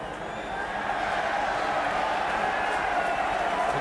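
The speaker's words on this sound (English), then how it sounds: "cheers from the crowd" A stadium crowd at the 1982 European Super Cup football match between Aston Villa and Barcelona gives off a steady, dense roar of cheering that holds at an even level throughout.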